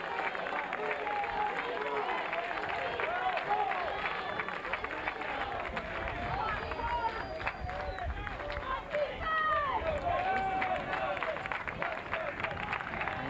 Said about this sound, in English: The St. Xavier fans are clapping hard, cheering on